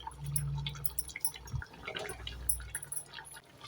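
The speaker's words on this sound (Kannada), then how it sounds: "ಚೆನ್ನಾಗಿ ಕುದೀತಾ ಉಂಟಲ್ಲ" Drumstick masala gravy boils in a pot, giving soft, irregular bubbling pops and faint liquid blips close by at a low level.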